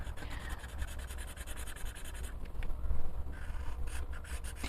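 Soft, steady scratching and rubbing of colored pencil tips on coloring-book paper, close up, with dry raspy strokes and no voices.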